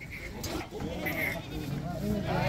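Goats bleat during an unloading of livestock, several cries rising above steady background chatter and people talking nearby.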